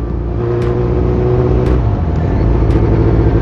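Highway Patrol Group motorcycles, Suzuki V-Strom 1000 bikes with large engines, humming steadily on a road ride toward La Union, a continuous loud engine drone with a few brief sharp high passes.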